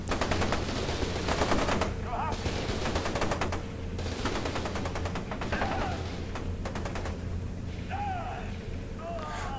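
Rapid automatic gunfire rattles in F.E.A.R. 2, dense machine-gun bursts repeating over a low rumbling game background with occasional voices.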